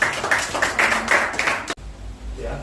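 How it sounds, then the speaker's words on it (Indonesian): Brief burst of clapping from a small audience in a therapeutic exercise lecture, a handful of distinct claps over about two seconds before cutting abruptly to near silence. "Beri tepuk tangan dulu."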